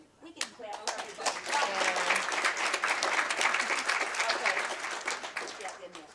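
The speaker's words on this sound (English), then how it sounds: "We can clap for everybody." An audience claps for graduates at a leadership institute graduation ceremony, a dense, sustained burst of applause that swells quickly and holds steady for several seconds before fading out.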